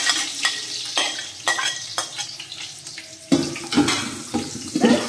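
Thinly sliced onion sautés in a pan for ghee rice, a spatula scraping and stirring in regular strokes roughly every half second over a close sizzling hiss, without any talking.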